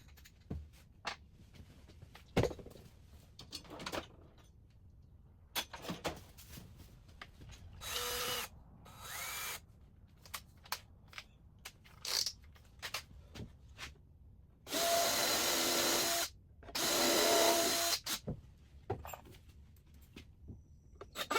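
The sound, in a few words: power drill pre-drilling holes in wood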